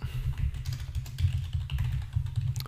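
Rapid keystrokes patter on a computer keyboard, a quick irregular run of close clicks and taps that continues alone for the whole short stretch.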